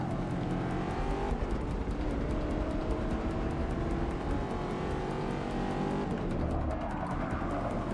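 A Ford Mustang's engine roars steadily throughout a race lap at Abu Dhabi in Forza Motorsport 6, loud and continuous with shifting revs and tire noise.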